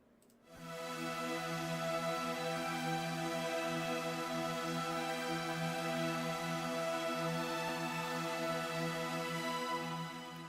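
Strings in a suspenseful song play a repeating pattern over a sustained drone, entering after a short pause and holding a dense, even, steady texture at moderate loudness until the end.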